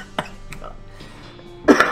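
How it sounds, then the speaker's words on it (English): A couple of short coughs or throat-clearing sounds, the loudest near the end, over a quiet room background. "Pardon me, sorry about the coughing."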